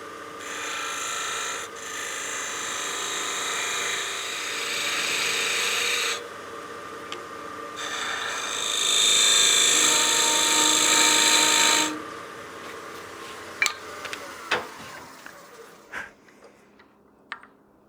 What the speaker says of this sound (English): Do a couple more cuts with our spindle gouge.